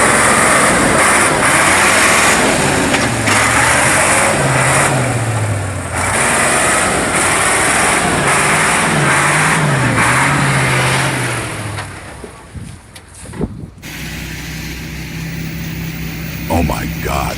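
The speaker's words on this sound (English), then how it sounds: "The Ural roars with power, challenging nature itself." A Ural truck engine roars and labours while pulling out of swamp mud, its pitch rising and falling under heavy load, then the loud roar gives way to quieter, more scattered sounds.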